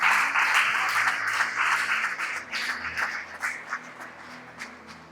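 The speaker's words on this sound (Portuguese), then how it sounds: "Você pode dar uma linda salva de palmas para Jesus?" Church congregation applauds, a loud burst of clapping at the start that gradually thins and fades over a few seconds, with scattered individual claps near the end.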